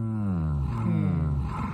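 A voice imitates a bear's roar, a loud, close, deep growling bellow held for nearly two seconds with a slowly falling pitch.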